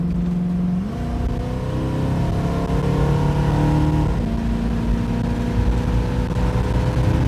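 A 1968 Ford Mustang Fastback engine revs and accelerates up through the gears, a loud, deep rumble close by with no voices.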